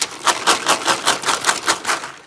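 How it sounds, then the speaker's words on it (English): Dried white beans are shaken and mixed in a bag, producing a loud, close, rhythmic series of rattling rustles about five per second that fade slightly at the end. "we'll return all of our white beans to the bag and mix it again"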